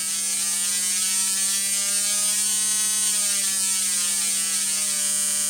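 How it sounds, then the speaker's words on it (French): Bosch ignition system for an NSU Ro 80 on a test bench, its spark plug firing in a rapid buzzing train whose pitch drifts as the driving frequency changes, steady and loud over a constant mains-like hum. "on entend bien les étincelles de la bougie changer de fréquence en fonction de la commande du générateur de fréquence"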